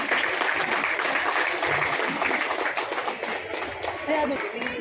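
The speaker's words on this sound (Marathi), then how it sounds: "टाळ्या" Audience applause at a police station felicitation event honoring women, a steady wash of clapping from a crowd running throughout, with talk mixed in.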